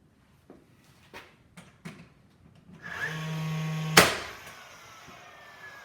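A DeWalt 20V Max XR cordless drill drives a screw into wood, a short steady motor whine lasting about a second after a few light knocks, ending in a sharp loud crack as the screw seats, heard close.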